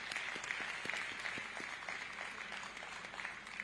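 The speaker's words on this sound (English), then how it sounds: "Another round of applause." Audience applause at the EU–Zambia Lobito Corridor Forum ripples through a large hall, a moderately faint, steady round of clapping with a few sharper individual claps standing out.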